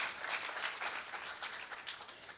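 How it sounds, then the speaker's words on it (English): A conference audience at a hacker gathering gives brief, soft applause, an even patter of many hands that tapers off slightly toward the end. "round of applause for them"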